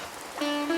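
Heavy stormy rain in an animated Hindi story, a dense, steady hiss with a sustained tonal hum joining partway through the short moment.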